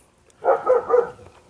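A dog gives about three quick barks in a row at moderate volume during a cookout where a turkey breast is being smoked on an Oklahoma Joe's Blackjack kettle grill. No one speaks over them.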